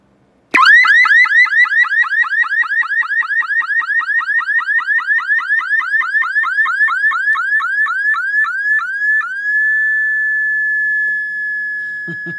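A loud electronic alarm on a DIY solar flag light warbles in rapid repeating chirps for several seconds, then settles into a steady high tone that slowly fades.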